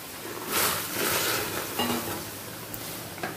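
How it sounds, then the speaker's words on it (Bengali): Semolina and milk for modak are stirred in a pan over a low flame, a close, scraping, swishing sound with gentle bubbling and sizzling and a few light knocks against the pan. "এরপর দুধটা দিয়ে ভালো করে মিশিয়ে নেব।"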